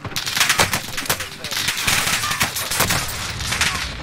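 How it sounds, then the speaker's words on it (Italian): Video game gunfire crackles in rapid bursts of shots with a voice talking over it. The sound is dense and fairly close, and it rises and falls throughout. "ma mi sparano tutti a me"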